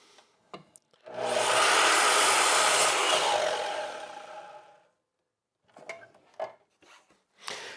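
Hand saw making a final cut through wood for a cash tray, a loud steady rasping stroke lasting about four seconds before fading, followed by a few faint scrapes and knocks.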